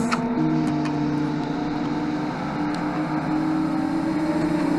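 A quiet inline-five race car engine at a cheap car race, holding a steady, even drone with no revving and no voices, staying at a moderate level through the whole stretch.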